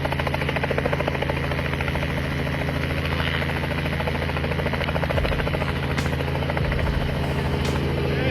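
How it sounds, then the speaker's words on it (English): A rescue helicopter hovering over floodwaters, its rotor thumps and engine drone holding steady throughout, loud and close, with no voices. "rescuers used a helicopter to save a dog trapped in floodwaters"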